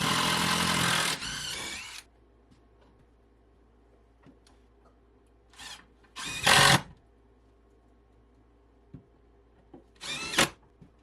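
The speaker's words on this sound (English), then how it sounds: "Once it's sitting right, I secure it to the wall with 4 screws" A power drill drives screws to fix a cabinet carcass to a plywood-covered wall: one long loud whir at the start, then a quiet stretch, then shorter bursts spaced a few seconds apart, close by.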